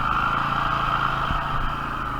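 A four-wheel drive vehicle crawls slowly through sticky mud in first gear with a steady, low, even engine drone throughout, heard from close by and without voices.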